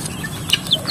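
Several chickens cluck close by in short, overlapping bursts against a busy farmyard background.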